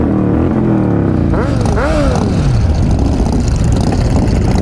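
Motorcycle engines idling and revving at a memorial group ride gathering, a loud constant rumble with a rising and falling rev, while people talk nearby.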